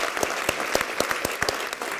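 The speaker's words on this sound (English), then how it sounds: "may I just ask all of you to give Richard a round of applause" Audience applause at the Skoll World Forum, a dense burst of many hands clapping at close range, steady and loud with no talk.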